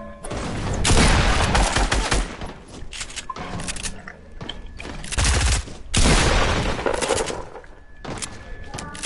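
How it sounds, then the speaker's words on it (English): Rapid video-game gunfire crackles in dense bursts, loud and close, with short pauses between volleys and mechanical clatter mixed in, while a voice talks over it at times. "I keep shooting"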